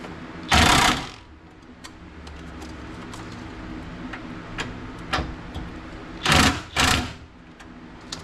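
An impact wrench tightens sway bar bolts on an S550 Mustang GT, firing three short loud bursts, one early and two close together near the end, with quieter clicks and workshop noise between them.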